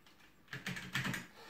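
Several quick keystrokes on a computer keyboard, a short burst of soft clicking taps, close and quiet, with no talking.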